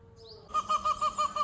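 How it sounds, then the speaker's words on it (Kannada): Peafowl around the Ananthapura Lake Temple grounds in Kasaragod, Kerala, give a series of about six evenly spaced, loud nasal call pulses after a brief quiet moment. "ಇಲ್ಲಿ ನವಿಲುಗಳು ಬೇಕಾದಷ್ಟು ಉಂಟು"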